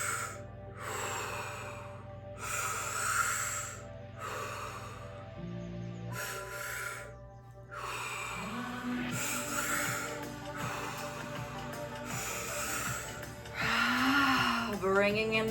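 Connected audible breathing during a breathwork session: a slow run of long inhales and exhales, some toned and voiced, close and fairly loud, with a low drone underneath.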